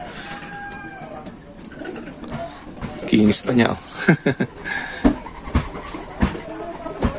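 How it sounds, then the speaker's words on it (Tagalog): Homing pigeons coo in soft, repeated throaty calls nearby, with flapping and scuffling noises, while someone talks over them. "Yun mga kalapatids."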